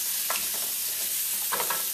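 Beef ribs seasoned with salt and pepper brown in a hot pot, giving a steady close sizzle with brief louder crackles and stirring sounds.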